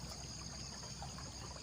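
Fast-flowing river water running past, a faint, continuous rushing and trickling wash with no voices over it.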